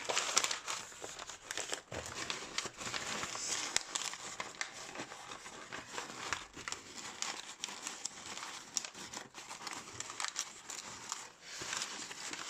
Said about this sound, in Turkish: Kağıdımız çok ince olduğu için yırtılıyor.